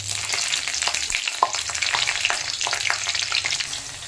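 Nigella seeds and green chillies hit hot oil in a pan, a continuous crackling sizzle with quick pops and spitting bursts, the level staying busy and close throughout.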